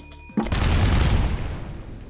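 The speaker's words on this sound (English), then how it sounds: "The explosions are kind of satisfying" An explosion in the video game Tactic-Toe: a sudden booming burst after a brief pause, followed by a dense crackling rumble that fades over about two seconds.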